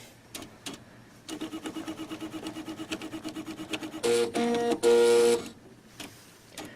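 An Epson Stylus Color 800 inkjet printer resets, giving a rapid run of rhythmic mechanical clicks and ratcheting from the carriage, then a few louder whirring motor bursts with tonal whines before it quiets.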